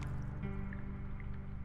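Face being washed in spring water in the Crow Country video game: a short burst of wet dripping and squishing water sounds, close and alone, with no talking.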